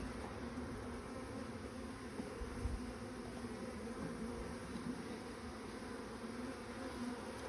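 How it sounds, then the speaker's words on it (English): Bees hum in a low, continuous buzz around a beehive frame, faint and steady, with a soft outdoor background hiss. "We have quite a few bees on there, or more bees than normal."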